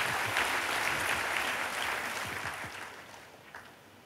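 A church congregation applauds during a worship service, a dense, fairly loud wash of clapping that gradually fades toward the end.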